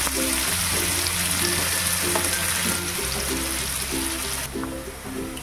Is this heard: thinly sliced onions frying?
yes